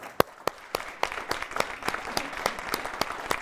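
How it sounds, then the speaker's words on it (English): Audience applause at a university building groundbreaking ceremony, a crowd of sharp, rapid handclaps that keeps up steadily throughout at moderate loudness. "So let's just give them a round of applause."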